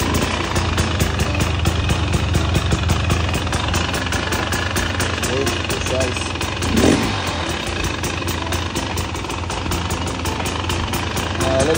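A 2024 Husqvarna TE 300 motorcycle engine runs steadily near the microphone, a continuous buzzing idle with dense rapid firing pulses and a brief louder surge partway through.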